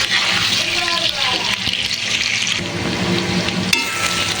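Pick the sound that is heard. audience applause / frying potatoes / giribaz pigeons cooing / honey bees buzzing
frying potatoes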